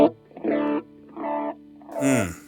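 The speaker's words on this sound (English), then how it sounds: "I want this to be a pretty prominent sounding delay" A guitar run through a Line 6 Helix with a prominent quarter-note delay, a short phrase followed by two fading repeats spaced evenly apart, each a little softer, with no talk over it.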